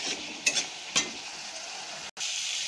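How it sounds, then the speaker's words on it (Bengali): Spice paste sautéed in a pan for a chicken curry, a steady close sizzle with a few brief scraping stirs early on and a momentary dropout near the end. "আমি মশলাটা কষিয়ে নেব"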